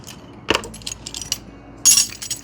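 A bunch of drum keys jangles close by, with a sharp metallic rattle near the start and a brighter burst of clinking near the end, amid softer handling clatter on a workbench.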